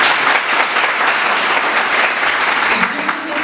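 An audience applauding at a youth vigil in Kyustendil, Bulgaria, with loud, dense, sustained clapping from a crowd that fills the room and tapers slightly at the end.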